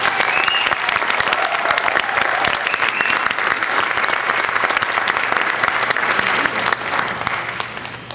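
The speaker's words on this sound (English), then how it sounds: "Let's give them a nice round of applause." An audience applauds a junior jazz ensemble at a school concert, dense sustained clapping from a full crowd that fades slightly at the end.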